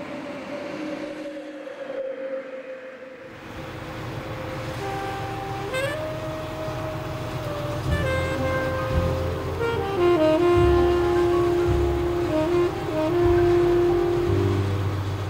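A train runs along open fields in Burgenland, its steady rumble joined by drawn-out tonal horn-like notes that step and slide in pitch, growing fuller toward the end with no voices.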